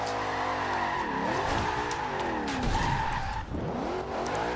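Tires screech and skid through a drift in the Forza Horizon 2 racing game, a loud sustained squeal with sweeping pitch bends over a steady engine roar, continuous throughout.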